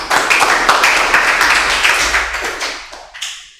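Lively hand clapping from a classroom group, a dense burst of applause that fades out with a few final claps.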